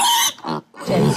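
A pet pig grunts and squeals while being bathed with a sponge, in short, loud, close bursts separated by a brief silent gap.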